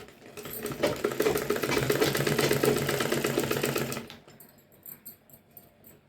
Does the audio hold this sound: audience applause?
no